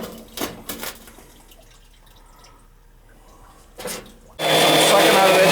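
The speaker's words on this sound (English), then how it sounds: "I'm sucking out of this bucket with a pump into the boiler" A pump draws glycol from a bucket into a gas boiler. After some light knocks and drips, it starts abruptly near the end with a loud, steady whirring hum.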